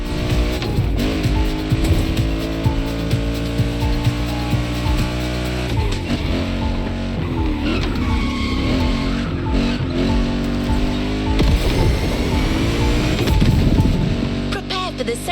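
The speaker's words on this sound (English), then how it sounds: "There's an absolute classic heading your way, a grail among collectors and Jim's greatest pride, the Mustang Boss 429." Ford Mustang Boss 429 classic American muscle car driven in The Crew Motorfest racing game, a loud continuous engine roar with revving and tire squeal over background music.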